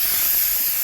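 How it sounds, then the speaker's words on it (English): Uni filter cleaner sprayed onto a flat panel air filter, a steady continuous aerosol hiss lasting the whole moment, close and loud. "We're going to spray with our lovely assistant a little bit more"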